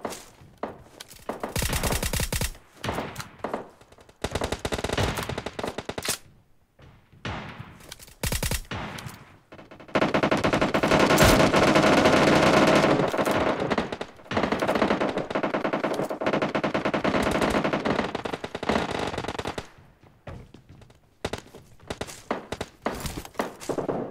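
Rapid automatic weapons fire in PUBG Mobile comes in loud, close bursts, some short and some sustained, split by brief gaps and quieter stretches with a few faint thuds.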